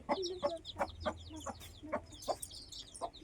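Several hens cluck in short, repeated bursts at close range, with a steady low hum of background noise underneath.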